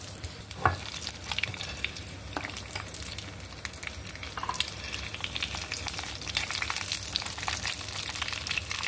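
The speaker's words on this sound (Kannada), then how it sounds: "ಬಜ್ಜಿಗೊಂದು ಒಗ್ಗರಣೆ ಮಾಡ್ಕೊಂಡು ಬಿಡುವ" Chillies spluttering in hot oil for a Karnataka-style tempering for brinjal bajji, a steady close sizzle with scattered sharp pops and crackles and an occasional stirring scrape, no talking.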